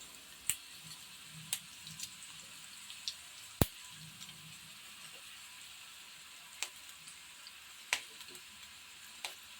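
Red and green chilies dropping into hot oil give a soft, steady frying sizzle with a few sharp ticks and pops scattered throughout, close and fairly quiet, with no voices.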